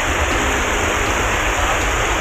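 Floodwater pours over a road after the Jatinga river dam broke, a loud, steady rushing roar of flowing water that is dense and unbroken from start to finish.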